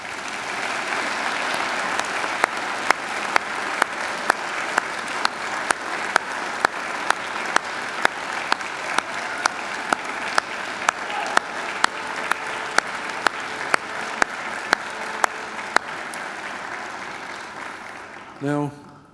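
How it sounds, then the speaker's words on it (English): Graduation audience applauding family and friends, a large crowd clapping steadily and warmly for nearly twenty seconds before it fades out, with a voice coming in at the end. "I invite you to give them a mighty round of applause."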